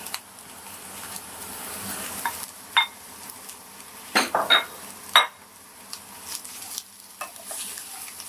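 Bitter gourd peel fries with onions and potatoes in a pan, a steady soft sizzle broken by several sharp scrapes and clinks of a utensil stirring against the metal.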